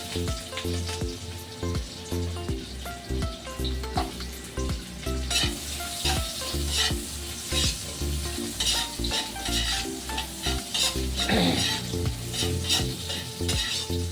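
Garlic and onion fry in a pan for spare ribs humba. A continuous close sizzle with stirring scrapes sits under steady background music throughout.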